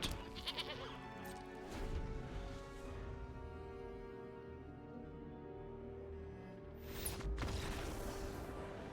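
A goat bleats in the card game MTG Arena, a synthesized in-game cry heard over layered game music and effects, with a brief sharp burst near the end.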